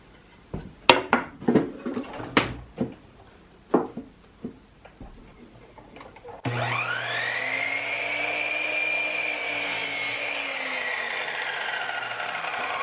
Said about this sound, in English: Let's take this over to the chop saw and get this cut down.